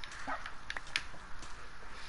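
Faint yips and whimpers from a dog in the Minecraft video game, a few short cries within a couple of seconds against a steady background hiss.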